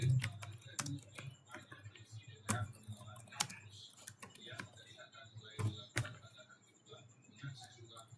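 Someone types text into Adobe Premiere Pro on a computer keyboard, giving scattered crisp key taps in uneven bursts close to the mic, while a person talks quietly underneath.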